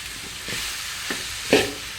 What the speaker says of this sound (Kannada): ಈಗ ಕಟ್ ಮಾಡಿ ಇಟ್ಟ ಕಡುಬನ್ನು ಹಾಕ್ತೇನೆ. ಹಾಕ್ಕೊಂಡು ಚೆನ್ನಾಗಿ ಮಿಕ್ಸ್ ಮಾಡಬೇಕು.